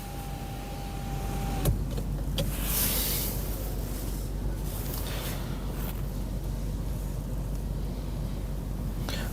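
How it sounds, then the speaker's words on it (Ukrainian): Low electric motor hum of the sunroof sliding open on a 2019 BMW M550i xDrive, steady and close, with a few clicks and soft knocks along the way. "люк працює, він від'їжджає назад або ж підіймається вгору"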